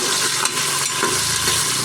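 Tomato frying in a pan with bay leaf for vegetable pulao, a steady close sizzle with light stirring scrapes running throughout and no voices.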